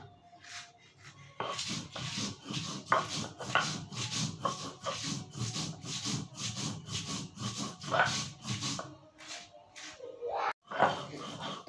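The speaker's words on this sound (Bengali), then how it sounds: "এতটুকু নুন দিয়ে লাল মরিচগুলো বেটে নিই।" Red chilies ground with a pinch of salt for a spicy bhorta, a rhythmic series of close, scraping rubs of stone against stone, repeated steadily with brief pauses between strokes.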